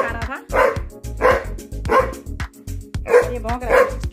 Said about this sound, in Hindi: ये भौंक रहा है, क्यों भौंक रहे हो?